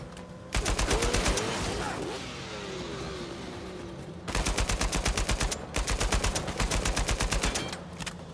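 Two long bursts of rapid automatic gunfire during a vehicle chase in Uncharted 4: A Thief's End, loud and evenly spaced, with a car engine droning through the gap between them and a voice talking underneath.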